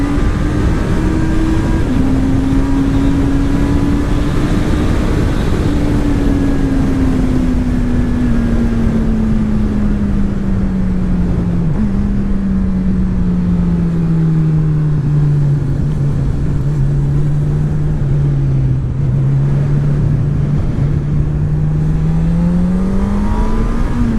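A 2018 Honda CB1000R motorcycle engine drones loud and steady over heavy wind roar, its pitch slowly falling and then climbing again near the end.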